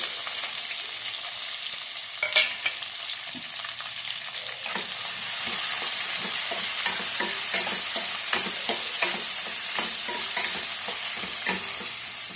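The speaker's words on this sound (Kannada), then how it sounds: "ನಾನು ಮೀಡಿಯಮ್ ಸೈಜ್ ಎರಡು ಈರುಳ್ಳಿ ದಪ್ಪ ದಪ್ಪ ಹಚ್ಕೊಂಡಿದ್ದೀನಿ ಫ್ರೈ ಮಾಡ್ಕೊಳಕ್ಕೆ" Two medium onions, cut into thick pieces, fry in a hot pan for a curry masala, a steady close sizzle broken by repeated spatula scrapes and stirring knocks, with no voices.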